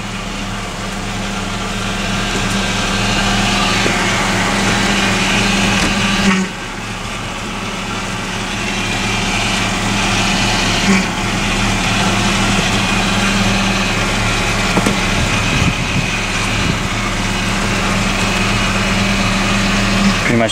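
A car engine idles steadily while its steering wheel is turned lock to lock during a power steering fluid flush; a whining hum rises and falls with brief dips, close and continuous.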